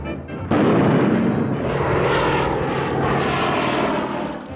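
A propeller aeroplane roars close by with a loud, steady engine drone and buzzing airscrew, swelling in suddenly and holding strong before easing slightly, with no voices.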